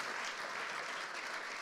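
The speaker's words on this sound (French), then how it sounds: "vous pouvez évidemment applaudir" A crowd applauding continuously at an award ceremony, a brief and even burst of many hands clapping at moderate volume.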